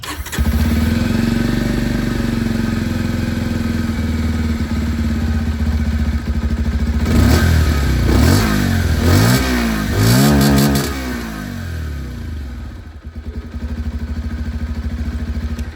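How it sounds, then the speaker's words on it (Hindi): A Bajaj Pulsar 125 motorcycle engine idles with a steady low throb, then its exhaust revs up several times in quick bursts before settling back down. "बाकी ये था एग्जॉस्ट साउंड ऑफ पल्सर 125।"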